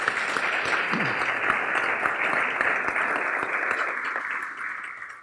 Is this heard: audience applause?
yes